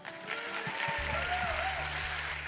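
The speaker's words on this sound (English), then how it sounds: "another huge round of applause for those very brave dancers." A crowd applauds dancers at a startup demo day, dense clapping that swells in the first second and stays loud, with a faint hum underneath.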